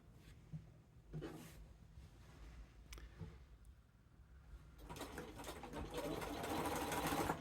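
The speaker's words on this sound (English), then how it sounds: "I'm going to leave my gap, and then I'll do a little back stitch." A sewing machine back stitches while attaching binding to a quilt, running in short whirring bursts with pauses, then a longer, louder steady run near the end; no talk.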